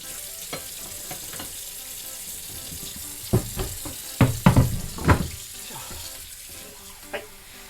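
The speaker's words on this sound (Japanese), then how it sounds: "一旦ここねきれいに水洗いをしていきます" Running tap water rinsing a gutted mejina (opuma) fish at a kitchen sink, a steady soft stream with a few louder splashing bursts in the middle as the fish is handled under the flow.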